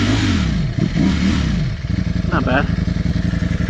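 A 2020 Ducati Streetfighter V4 motorcycle engine runs close by, idling with a throbbing pulse and a brief rev, while someone speaks briefly over it.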